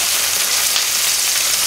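Tomato frying in a pan, heard as a loud, close and unbroken sizzle that hisses evenly from start to finish of the short stretch, with no voices.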